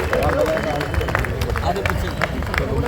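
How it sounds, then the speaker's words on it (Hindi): A student rally crowd claps and cheers for a speaker, a dense, steady wash of applause mixed with crowd babble throughout. "जोरदार तालियां भाई साहब के लिए।"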